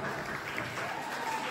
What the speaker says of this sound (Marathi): पवार हा इंग्लिश मीडियमचा विद्यार्थी आहे आणि खरोखर याचं टाळ्या वाजवून स्वागत करा